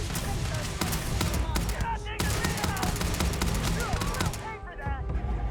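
Rapid, dense gunfire during a Starfield firefight, bursts of automatic shots crackling almost continuously over game background noise, with a brief lull partway through.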